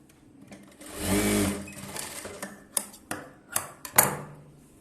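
A sewing machine stitches the hemming piece for a blouse neckline in a short close run, followed by several sharp clicks and taps from handling the machine and fabric.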